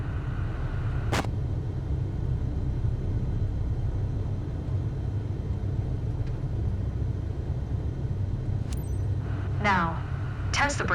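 A small airplane's engine drones low and steady while taxiing slowly in Microsoft Flight Simulator 2024, with a few faint clicks near the end.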